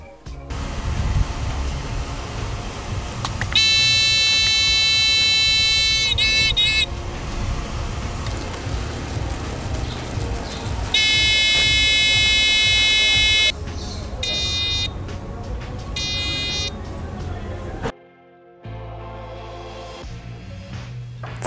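A shrill electronic buzzer on a homemade rain sensor sounds in several bursts, a steady high tone switching on and off over a constant background noise.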